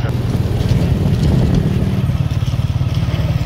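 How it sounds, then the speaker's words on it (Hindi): Motorcycle engine running close up with a steady throbbing pulse while the bike is ridden slowly carrying a long ladder, loud and continuous with no talk. "बाइक चलाने में तो काफ़ी ज़्यादा मुश्किल हुई है"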